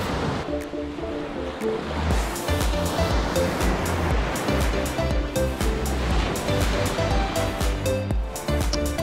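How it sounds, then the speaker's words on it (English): Surf breaking on Miner's Beach at Pictured Rocks on Lake Superior in Michigan, a steady loud wash of waves rolling in close with continuous churning water and no talk over it. "This is Miner's Beach"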